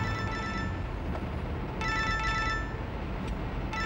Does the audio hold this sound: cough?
no